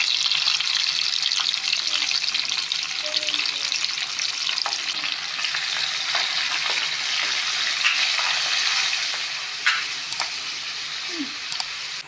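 Curry leaves and onions fry in a pan for a village-style dry fish and brinjal curry, a continuous close sizzle with occasional stirring scrapes and a brief clink near the end, no talking.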